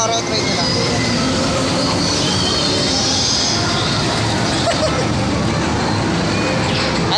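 A Horror Train ride at an amusement park rumbles loudly and continuously like rolling rail cars, with crowd babble and talk mixed in.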